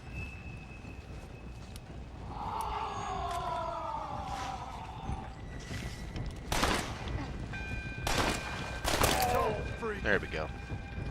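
A few sharp, separated gunshot bursts ring out in Red Dead Redemption: Undead Nightmare, standing out against a quieter bed of ambient game sound, drawn tones and a faint voice.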